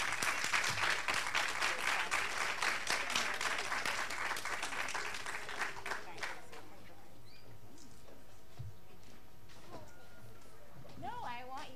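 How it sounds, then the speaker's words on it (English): An audience at a JA Kids conference applauds families, a dense burst of clapping that gradually thins out and fades, followed by quieter room sounds and someone speaking near the end. "I just want you guys to give them a round of applause."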